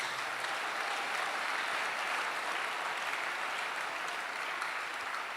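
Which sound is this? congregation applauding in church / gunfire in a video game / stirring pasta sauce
congregation applauding in church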